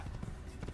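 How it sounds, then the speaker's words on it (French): Horse hooves clip-clopping in the game Assassin's Creed, quick soft rhythmic footfalls at a low level, continuing steadily through the brief moment with no voice over them. "J'ai nommé mon cheval, voilà, Findus"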